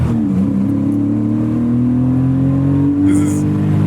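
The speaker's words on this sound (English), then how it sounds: "It's a 993 Carrera 2, with the RS kit on it." A Porsche 993 Carrera 2 with an RS kit accelerates on the Nürburgring, its engine droning loud and close and climbing steadily in pitch, heard from inside the car with voices talking over it.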